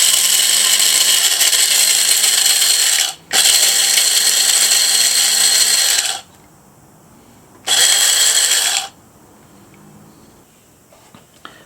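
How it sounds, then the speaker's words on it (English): A coffee bean grinder powered by a FERREX PRO portable power station, loud steady whirring in two bursts of about six and one and a half seconds, separated by quiet, with no talk. "Now I've run my coffee bean grinder on it"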